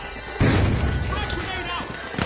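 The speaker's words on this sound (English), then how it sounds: "Tossing a frag." Frag grenade going off in the shooter game The Finals, a sudden heavy boom followed by a rumbling tail and scattered gunfire-like crackle, loud and close, with voices talking over it.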